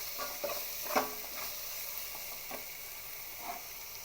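Chicken sizzles in a pan with turmeric and curry leaves while a spoon stirs it. Soft scraping strokes recur about once a second over a low, steady frying hiss, heard up close and quiet with no talking.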